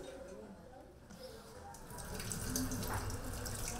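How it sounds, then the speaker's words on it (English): Tap water runs as hands are washed with soap, a soft splashing that grows louder and fuller toward the end, fairly quiet overall with a voice faintly present. "To begin, wash your hands with soap and water"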